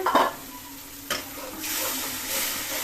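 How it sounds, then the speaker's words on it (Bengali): Spice paste of ground chilli, ginger and garlic sizzling and being stirred in a pan while cooking tengra fish curry, a steady close frying hiss with a brief scraping stir near the start. "এখন মশলাটা ভালো করে কষিয়ে নেব।"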